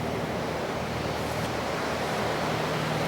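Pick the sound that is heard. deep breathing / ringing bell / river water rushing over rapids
river water rushing over rapids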